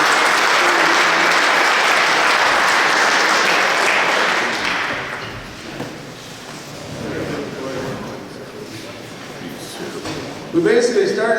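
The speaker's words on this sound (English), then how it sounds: "Give these guys a round of applause." Audience applause at a company summit session, loud and dense for the first few seconds then thinning into scattered clapping and murmuring crowd noise, with a brief burst of claps near the end.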